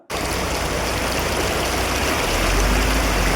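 Floodwater rushing along a residential street after heavy rain, a loud, steady roar of flowing water that starts abruptly and holds without a break.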